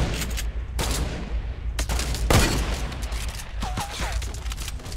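Gunshots in the Fortnite battle game, with sharp single shots and short rapid bursts of fire over a busy game background, plus a few faint game effects near the end.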